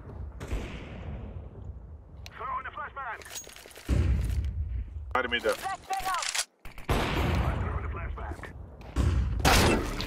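Gunfire rattles in a Counter-Strike 2 match, with repeated rapid bursts and single shots of varying loudness cutting in and out while players talk over voice chat.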